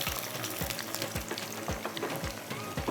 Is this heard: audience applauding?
no